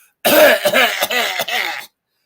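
A man vocally imitates a cough, giving a run of four or five close, harsh, raspy bursts for about a second and a half, loud and close, with nothing else heard.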